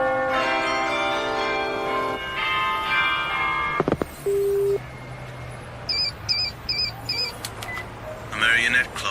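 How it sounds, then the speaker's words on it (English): A marionette clock in an anime episode chimes in a short run of bright, high bell-like tones that repeat in a quick pattern, set against music and scattered effects, with no talking over it. "A marionette clock. I'm sure that's what that sound was."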